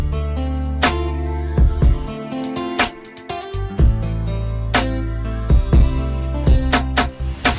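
R&B beat combining drums, electric piano, a subtle background pad and bass, playing as a full, dense mix with a heavy sustained low end and sharp percussive hits throughout, with no talking.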